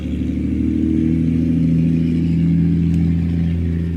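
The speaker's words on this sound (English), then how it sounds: "That car is noisy." A loud, rough car engine drones steadily nearby, its low hum swelling slightly as it passes, with no voices.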